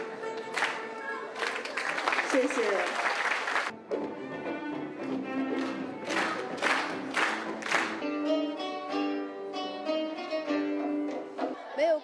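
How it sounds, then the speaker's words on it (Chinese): Children at a school folk concert by the Suzhou Chinese orchestra clap and cheer in a lively burst, with traditional instruments playing through and around the applause and a voice briefly speaking. "更是赢得了新疆班孩子们的阵阵掌声"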